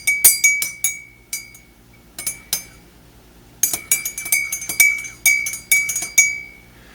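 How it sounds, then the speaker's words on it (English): A spoon stirring creamer into a cup of coffee rings against the ceramic in quick bright clinks, grouped in bursts with short pauses, close and clear with no talk. "Let's go ahead and stir that up real good."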